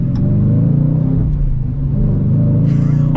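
A 2023 Dodge Challenger R/T with a manual gearbox pulling away from traffic, a steady deep engine rumble heard from inside the cabin, loud and continuous.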